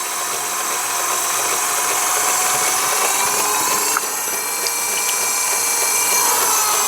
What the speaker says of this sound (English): as always, we will just centre our bit of clay.